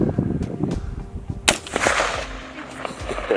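A gun fired during target shooting gives one sharp, loud report near the middle, with a few fainter pops and outdoor rustle around it. Some talk is heard underneath.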